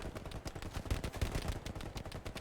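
Dense, continuous gunfire from a World War II tactical shooter match, Hell Let Loose, with machine-gun bursts and rifle shots overlapping at moderate distance throughout.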